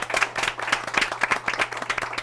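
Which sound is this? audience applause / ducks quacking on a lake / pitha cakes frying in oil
audience applause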